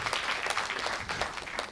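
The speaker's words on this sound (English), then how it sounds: "Thank you, Wendy, and a round of applause for Wendy and Emily." Audience applause fills a community forum panel session, a dense, steady patter of many hands clapping at close range, with no talk over it.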